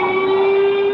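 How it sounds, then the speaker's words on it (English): An air raid siren sounding during a civil defense drill in a Taipei supermarket, a loud steady wailing tone held evenly throughout, with no talk. "With the sound of an air raid siren, staff at the store quickly directed customers to the basement for shelter."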